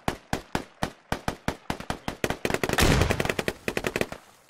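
Gunfire in a competitive multiplayer video game match on the Kohat map, rapid rhythmic bursts of sharp shots speeding into a dense crackling barrage, fairly close and with no talk over it.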